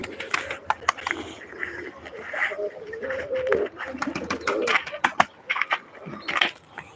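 Pigeons from a loft flock coo and call close by in a busy mix, with bursts of wingbeats and scattered clicks, while someone talks faintly in the background.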